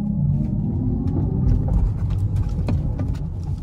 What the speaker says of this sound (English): if you floor the car you get like a louder sound